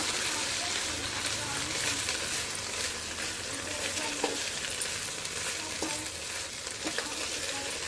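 Gongura leaf chutney mixture is stirred and mixed in a pan, a steady sizzling, scraping churn running throughout, close and continuous with faint background noise.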